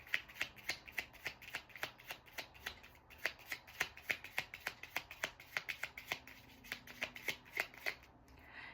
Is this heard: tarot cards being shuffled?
yes